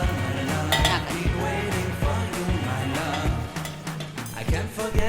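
A metal lid clinks onto a cooking pan holding potol and fried prawns with green chillies, giving off several bright clinks and rattles, with a faint sizzle underneath.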